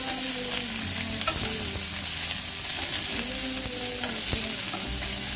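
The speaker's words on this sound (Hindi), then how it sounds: "हमें प्याज को तब तक भूनना है जब तक कि हल्का पिंक ना हो जाए" Onions sautéing in a pan over low heat give a steady, close, dense sizzle with faint stirring scrapes throughout and no voices.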